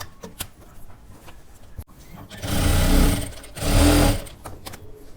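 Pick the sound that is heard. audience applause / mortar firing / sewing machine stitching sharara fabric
sewing machine stitching sharara fabric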